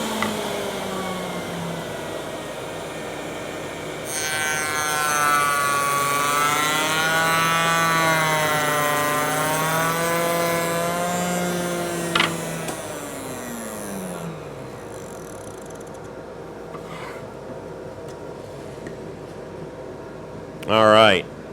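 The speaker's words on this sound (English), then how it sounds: "get the dust collector turned on, and let's make a test cut" A power tool spinning up and making a test cut on a bath vanity piece, with a dust collector running, a rising whine that holds steady, then winds down, and a short burst near the end.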